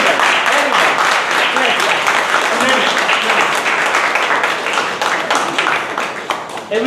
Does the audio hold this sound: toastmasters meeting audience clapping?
yes